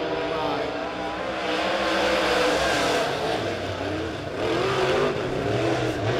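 A-Modified race cars roaring around a dirt oval at Springfield Raceway during a heat race, engines droning loud and continuous with revving swells, while a commentator talks over the racing.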